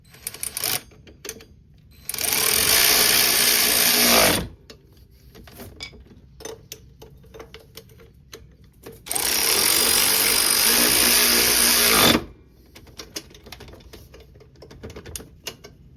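Wrench running bolts back down on the guard of a 2001 Polaris Xplorer 250 ATV during a rear sprocket and chain job, two sustained bursts of fast rattling ratchet or impact noise, loud and close, separated by quieter handling clatter.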